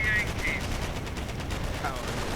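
An MG42 machine gun fires rapid bursts in a video game battle, mid-level under a commentator talking.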